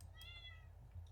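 A faint, short meow from a cat in Stardew Valley, a single high rising-falling cry over a low steady hum.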